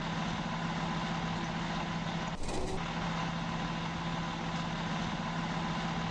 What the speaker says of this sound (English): I'm going to pull this truck in straight, even though I should be backing it in.